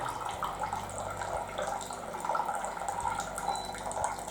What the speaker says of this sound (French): j'appuie sur le bouton pour faire couler et l'eau va sortir à 85 degrés